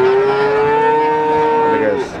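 A single long, loud moo from a young calf at a cattle market for breeding calves, a steady drawn-out call that drops off sharply at the end, with no talk over it.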